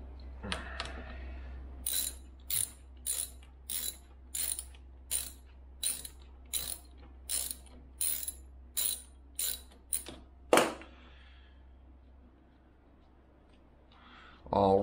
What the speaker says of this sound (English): Next we will take our 14mm little 14mm socket wrench, and we're going to remove this bolt from the inside here.